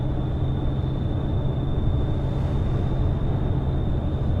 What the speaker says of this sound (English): You love this truck? It sounds a beast.